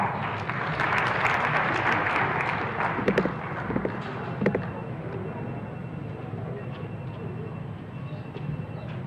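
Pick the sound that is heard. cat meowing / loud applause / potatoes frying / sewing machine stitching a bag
loud applause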